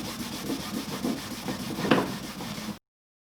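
A cloth buffs oil into the wooden surface of a tool chest coffee table, giving a steady, close rubbing hiss in continuous back-and-forth strokes that ends abruptly.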